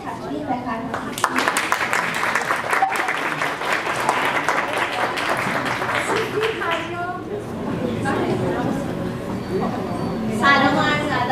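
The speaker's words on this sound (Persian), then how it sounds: "لطفا عزیزان هنرمند ما را تشویق بفرمایید" An audience claps for a children's theatre group about to perform, a loud sustained patter of applause with chatter and a voice speaking over it, the clapping thinning out toward the end.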